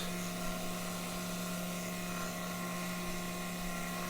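A steady, continuous machine whine with a droning motor hum, a 3018 CNC router cutting wood with a vacuum collecting sawdust, loud and unbroken throughout without pauses.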